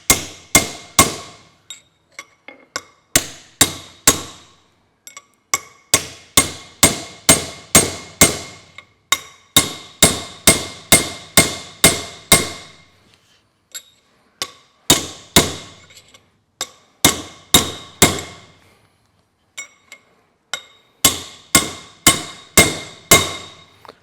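Sharp metallic hammer blows drive an old bent punch against a Massey Ferguson 65 final drive shaft, landing in quick bursts of several strikes each, ringing and clanking against metal, with short pauses between the volleys.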